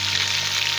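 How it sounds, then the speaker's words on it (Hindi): Chicken pieces fry in oil with garlic and ginger for a pea and chicken gravy, giving a continuous, fairly loud sizzling hiss without pauses. "ये मैंने ऑयल में लहसुन अदरक फ्राई कर लिया है और ये चिकन शामिल कर रही हूँ।"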